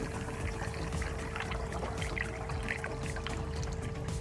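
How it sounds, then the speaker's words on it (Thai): Plain water poured steadily into a bottle to fill it, a continuous close gurgling stream running without a break. "ใส่น้ำน้ำเปล่านะครับเพื่อนๆ ใส่ไปเลย ให้เต็มขวดเลย"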